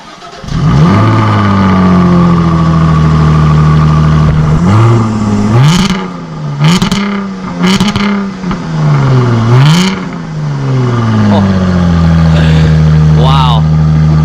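A Jaguar F-Type's engine fires up from cold, settling into a loud, close idle broken by several sharp throttle blips that rise and fall, with a person's voice talking over the running engine.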